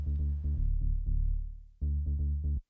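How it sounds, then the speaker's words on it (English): Deep, round Juno-6 synth bass notes, filtered, play alone in short phrases, a held tone fading out before a quick run of repeated low notes returns. "underneath it, I have the Juno 6 bass"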